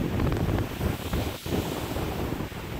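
Ocean surf rolls onto a beach in a continuous, rushing wash, heavily buffeted by wind on the microphone, with no voices.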